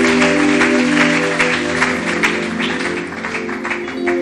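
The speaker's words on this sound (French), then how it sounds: "Acclamons très fort pour le roi de rois." A church congregation at a French-language Bible seminar applauds loudly and continuously, dense clapping with some cheering, the ovation holding strong before easing slightly toward the end.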